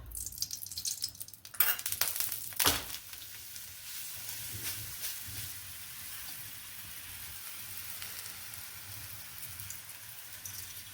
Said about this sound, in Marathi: आपण आता याला छान खरपूस तळून किंवा भाजून घेऊया.